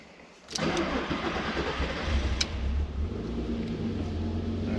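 A Volkswagen MK4 R32 engine with a DSG conversion cranks and catches, then settles into a steady idle rumble nearby.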